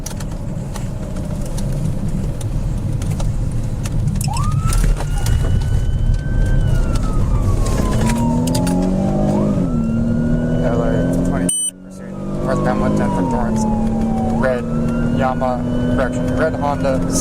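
A police car siren wails and yelps in rising and falling sweeps during a Los Angeles motorcycle pursuit northbound on the 110, loud and close over engine roar, with voices talking over it.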